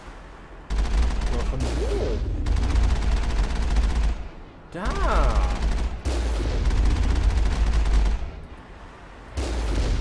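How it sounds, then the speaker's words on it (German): Gunfire in the video game Mass Effect comes in several loud, dense bursts separated by short pauses, with someone speaking German briefly between volleys. "Oh, da wird geschossen."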